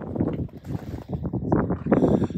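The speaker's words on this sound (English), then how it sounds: "Now, I'm sorry about the wind" Wind buffeting the microphone outdoors at the Arctic Circle in the Northwest Territories, a steady low rumbling roar with gusty surges that lasts throughout, with no clear talk over it.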